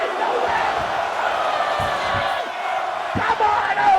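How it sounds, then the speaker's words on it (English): A large crowd at a live wrestling event in Stillwater, Oklahoma roars continuously, loud and dense, with whoops, yells and a few sharp thuds from the ring cutting through the sustained cheering. "This crowd is going crazy in Stillwater"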